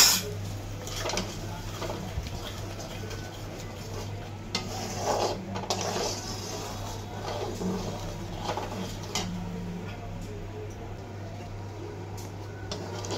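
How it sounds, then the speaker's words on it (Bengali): Spiced masala with milk simmers and bubbles in a pan for prawn malaikari, with a steady soft sizzle and occasional scraping stirs of a utensil against the pan. "দেখো ভালো করে কিন্তু ফুটে উঠেছে"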